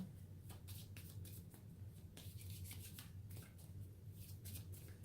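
Close, quiet riffling and soft slaps of a small stack of tarot cards being shuffled, the papery bursts coming in an irregular rhythm against a low background hum.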